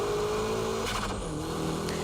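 Car power drifting with braking, weight shift and a downshift to second, engine note dropping then revving back up with a brief tire scrub, close and loud, no talking.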